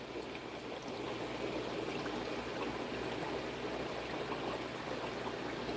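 Water drains steadily out of an aquarium during a water change, a soft continuous trickling rush that stays even throughout, with no voices.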